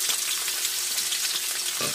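Onions sizzle and fry in a pan after garlic has browned to a golden color, a steady bright crackle heard up close with no talking.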